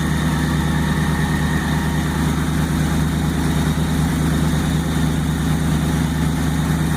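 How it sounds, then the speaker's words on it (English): Car engine idling steadily while it warms up before a harmonic balancer timing check, a loud, close, continuous low rumble with no talking over it. "the engine's warming"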